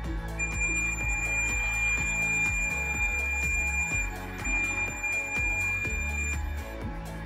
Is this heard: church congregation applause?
no